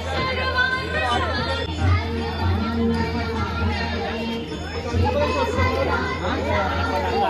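A dense crowd packs the Kolhapur Mahalaxmi temple, and many voices overlap in a loud, continuous babble with a few children's calls rising from the mix, all close around the listener.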